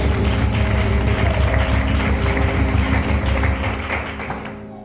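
A church congregation in Huércal clapping together, a loud dense wash of many hands that holds steady, then thins and fades toward the end.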